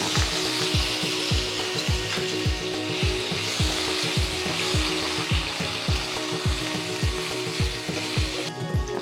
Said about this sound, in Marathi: आणि आता आपण लगेच बटाटा टाकणार.